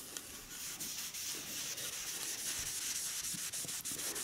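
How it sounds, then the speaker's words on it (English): A wooden rifle stock is scrubbed with mineral spirits, giving close, steady rasping strokes that continue without a break at low volume, with no speech. "And just keep scrubbing your gun stock."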